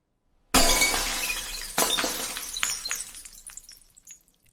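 Glass shattering after a hammer strike from a gloved hand, a sharp crash followed by a second impact and a scatter of tinkling shards fading out, close and clear with no speech.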